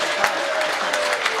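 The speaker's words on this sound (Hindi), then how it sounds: "बजाओ ताली, हाथ उठाकर एक बार जोरदार।" An audience at a Hindi comedy poetry gathering breaks into a short burst of loud, dense applause.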